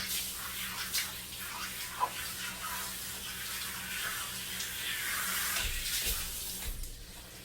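Pressurised water sprays steadily through a dog's fur during a bath, a constant hissing rush that swells and softens over several seconds, with faint bathroom clatter and a brief voice in the background.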